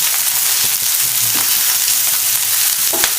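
Native garlic cloves frying in hot oil, a steady loud sizzle with faint stirring clinks, close and continuous without any talking.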